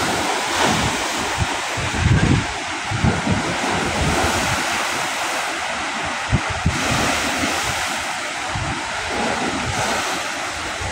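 Sea waves surge and break against the Manila Bay dike in a steady, loud roar, buffeted by wind noise on the microphone, with no voices.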